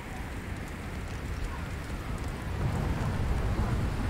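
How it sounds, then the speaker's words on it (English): Hail pelts down during a storm on the planet's surface in Subnautica: Below Zero, a dense, even patter of rattling impacts with a low rumble underneath, steady and gradually swelling a little louder. "It is hailing, I think."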